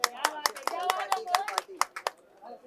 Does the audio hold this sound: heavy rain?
no